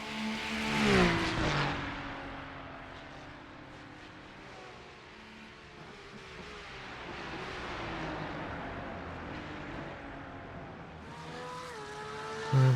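Two Ferrari race cars battle in iRacing at Canadian Tire circuit: loud high-revving engines with rising and falling pitch, a gear shift early on, and a sustained drone as the cars run close together.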